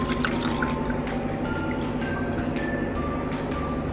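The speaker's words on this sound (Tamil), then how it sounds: "இந்த கிளாஸில் நம்ம 4 பங்கு தண்ணி ஊற்றிக்க போகிறோம்." Water is poured from a glass into a pressure cooker holding dal and rice, making a steady trickling, splashing flow with small drips, fairly loud and constant throughout.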